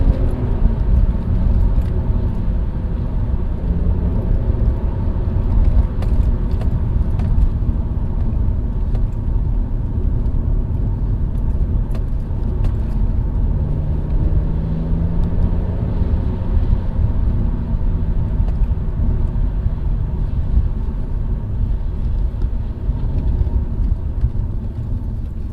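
Interior drone of a car on a wet, slippery road during a test drive, a steady low engine and road rumble that holds at even loudness throughout, with no voices.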